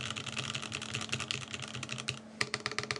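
Fast typing on a Nyaong 75 mechanical keyboard fitted with Gateron KS3 switches gives close, crisp clacks in quick runs, a short pause, then a fresh burst of keystrokes, with no talk.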